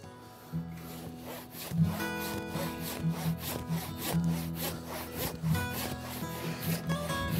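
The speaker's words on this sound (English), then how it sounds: "Let me give another saw a try." Hand saw cutting through wood for a joiner's mallet, steady rasping back-and-forth strokes in a continuous rhythm, close and fairly loud, with no talking.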